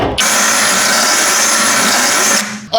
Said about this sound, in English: if I had a nice metal burr cone shape, so you go right in this corner, that cleans it up real nice and easy